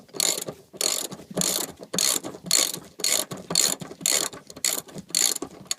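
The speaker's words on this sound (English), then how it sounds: "an 18mm socket is what will remove this bolt." A ratchet fitted with an 18mm socket cranks a rear seat bolt out of a 2013 Jeep Wrangler JK Unlimited, giving loud, close, evenly spaced clicking strokes, about ten in a steady rhythm.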